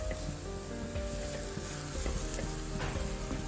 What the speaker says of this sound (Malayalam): ഒരു 2-3 മിനിറ്റ് നമ്മുടെ തേങ്ങയുടെ പച്ച ചുവയൊന്ന് മാറുന്ന ആ എണ്ണയിലൊന്ന് ശകലം ഒന്ന് വഴരാനായിട്ട് അനുവദിക്കണം